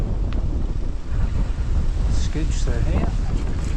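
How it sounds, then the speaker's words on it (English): Strong wind roars and buffets against a mountain bike rider on a countryside bridleway, a constant rumbling rush across the whole clip while a voice speaks briefly over it. "I knew the wind would be against me at some point."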